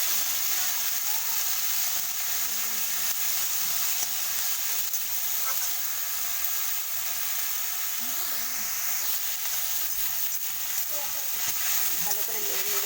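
Sajana leaf greens fry in a pan with a steady, soft sizzling hiss that continues throughout, with no talk.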